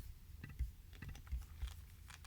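Fingers tapping a computer keyboard on a Mac, a few quiet, uneven keystrokes close by in a soft room with no talking.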